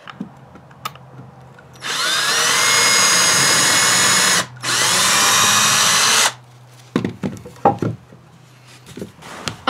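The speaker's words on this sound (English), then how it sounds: "We're gonna pre-drill so we don't crack the wood" A power drill pre-drills holes in wooden boards for a relic sifter, whining loudly up close in two long runs split by a brief pause, followed by scattered knocks and clatter of wood.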